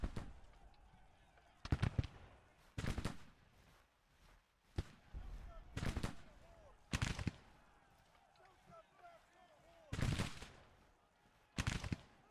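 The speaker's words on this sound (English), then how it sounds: "That was a hard-hitting volley." Infantry rifle volleys in Grand Tactician: The Civil War crack out as a series of sharp, distant-sounding bursts at irregular intervals over quiet battlefield ambience, with faint talk underneath.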